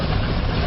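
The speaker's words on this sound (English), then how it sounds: "Now watch as Buzz Buggy's engines are started and test run." The engines of Buzz Buggy, a WWII aircraft, run with a loud, dense and steady low rumble that fills the whole brief moment.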